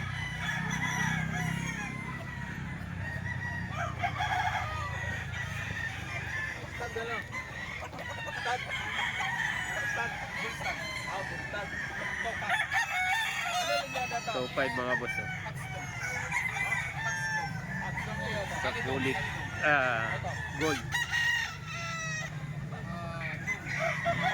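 Near a gamefowl breeder's yard, a tall bull stag rooster about eleven months old crows several times amid steady clucking from other chickens, with a voice talking quietly in the background.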